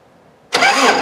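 A 1984 Toyota SR5 pickup engine that has sat for five years catches and starts abruptly after a moment of near silence, bursting into a loud, steady close-up running roar.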